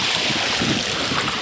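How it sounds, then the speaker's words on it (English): Steady wind roars across the microphone on the shore at Indian Rocks Beach, Florida, a loud continuous rushing with faint surf beneath and no pauses. "the wind's blowing"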